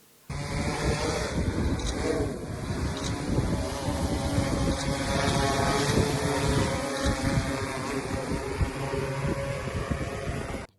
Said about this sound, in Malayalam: നാനോ യൂറിയ വളപ്രയോഗം ഡ്രോൺ ഉപയോഗിച്ച് നടത്തുന്ന രീതി